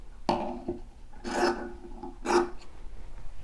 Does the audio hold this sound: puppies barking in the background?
no